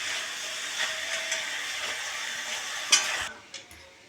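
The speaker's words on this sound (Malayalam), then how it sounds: "ഇത് ഇളക്കുമ്പോൾ ശരിക്ക് നല്ല 2 കയ്യിൽ വെച്ചിട്ട് വേണം ഇങ്ങനെ ഇളക്കാൻ" A noodle mixture stirred by hand in a hot pan gives a steady sizzle with soft scraping, ending in a brief clatter before the noise drops away.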